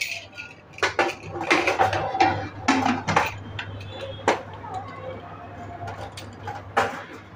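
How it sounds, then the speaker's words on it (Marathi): Metal clatter of a lid being fitted onto a pressure cooker holding a black pea curry, a series of sharp clanks and scrapes close by, with a low steady hum underneath. "झाकण लावून घेते."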